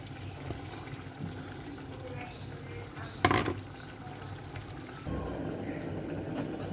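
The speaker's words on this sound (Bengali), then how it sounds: "এখন ছোটো মাছটা দিয়ে দিব" Small river fish, mola among them, go into a hot pan of oil for frying in a home lunch kitchen: a brief clattering splash, then a steady, louder sizzle that continues to the end.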